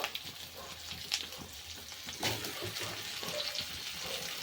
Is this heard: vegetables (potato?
yes